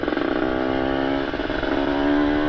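Kawasaki Ninja RR two-stroke motorcycle with an ABRT20 aftermarket exhaust revs steadily and loudly close by, its crisp raspy engine note holding high with slight rises and dips throughout.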